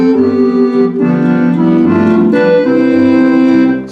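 A Roland digital accordion voice layered with a custom synth patch plays sustained chords, full and loud with a reedy buzzing tone, chord changes about every second.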